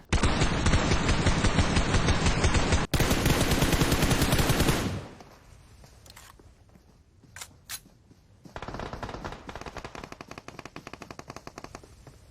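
Automatic gunfire from PUBG Mobile shoots through a wall: a loud, continuous rattling burst that cuts off abruptly, a few single shots in a lull, then another sustained volley.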